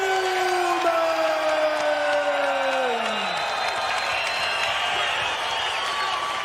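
Arena crowd at a UFC 17 heavyweight fight roaring and cheering in a steady wash, with a descending tonal sound in the first half over the noise, sustained and fairly loud throughout.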